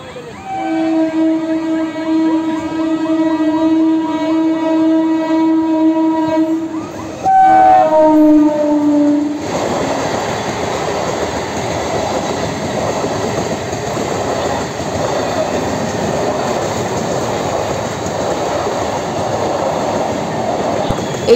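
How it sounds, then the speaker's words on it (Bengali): A train horn sounds in long sustained blasts, then the train rolls through a railway level crossing in a loud, continuous rumble and rattle of wheels on track, close by, with no talk. "দেখলাম গেট পড়ে আছে, তার মানে ট্রেন ঢুকবে"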